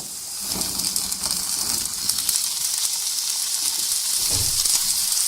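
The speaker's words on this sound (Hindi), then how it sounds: "और हम आलूओं को फ्राई करेंगे" Cut potatoes frying in hot oil for an egg and potato korma, a steady loud sizzle and hiss throughout, with brief soft stirring bumps.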